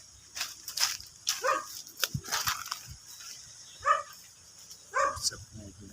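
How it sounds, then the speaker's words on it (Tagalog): A dog barks several times at a house being visited, sharp separate bursts spaced a second or so apart, fairly close, with faint voices and background noise in between. "May aso."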